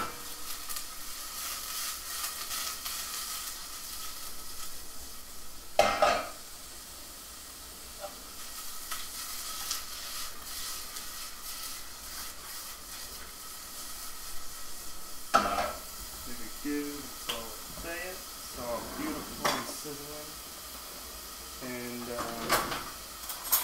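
Onions sizzle in a pan for a pasta dish with peppers and zucchini, a steady close frying hiss broken by clattering bursts of a utensil stirring and scraping, with a person talking at times.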